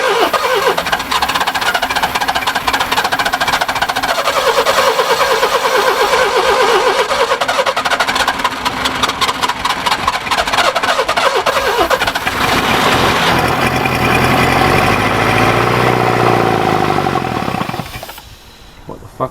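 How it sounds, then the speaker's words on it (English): Subaru Brumby ute engine cranking loudly and repeatedly, then catching and revving rough and close for most of the stretch before cutting out, with voices talking over it. "we'll just try and sort of hold it about a third throttle when it starts"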